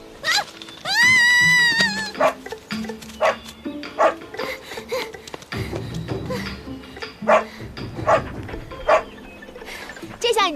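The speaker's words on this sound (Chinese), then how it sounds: "不过还是一条未修炼成精的小狗，要你凶我" A small dog barks in short repeated bursts in a fantasy costume-drama scene, mixed with voices and a swelling, tonal musical score.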